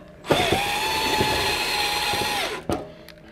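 A power drill whines steadily for about two seconds while driving the black screws that attach the front grill of a wet-location rated electric heater, with short clicks and knocks before and after.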